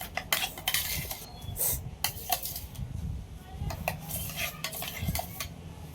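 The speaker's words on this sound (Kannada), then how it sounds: "ಇವಾಗ ಚೆನ್ನಾಗಿ ಮಿಕ್ಸ್ ಮಾಡ್ಕೊಳ್ಳಿ" Masala being mixed into yogurt-marinated chicken in a metal vessel for homemade dum biryani, with repeated scraping and clinking of a spoon against the pot in uneven, busy strokes close by.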